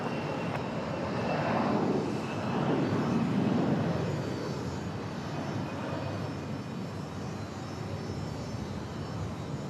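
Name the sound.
Delta airliner departing Raleigh Durham airport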